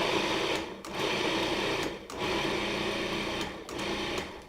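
A food processor pulses olive hummus paste in steady bursts of whirring motor noise, separated by brief pauses, close and loud with no talk.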